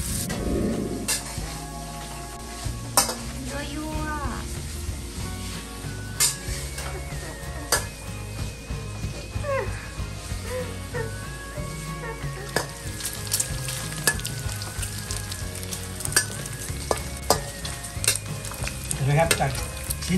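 Bacon sizzles and crackles as it fries in its own rendered fat, with steady close frying noise and occasional clinks and stirring scrapes in the pan, no talking.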